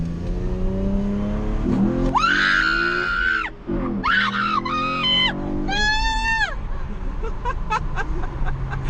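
A modded 2014 Camaro pulls hard in first gear, its loud engine note rising steeply in pitch twice around a brief shift-like dip, with screaming and excited voices riding over the roar.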